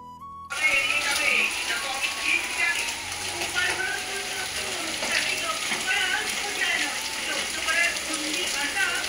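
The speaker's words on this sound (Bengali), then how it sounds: "এইখানে দেখো কেমন মুষলধারে বৃষ্টি হচ্ছে" Heavy rain pours down outside a house, a dense, steady hiss of falling water that holds constant after a brief tone at the start, with faint clatter mixed in.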